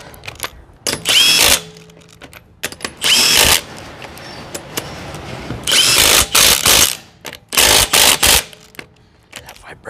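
Cordless impact wrenches, a Matco and a Milwaukee, spinning lug nuts off wheel studs in loud repeated bursts of about a second each, with rattling and clanking handling noise in between.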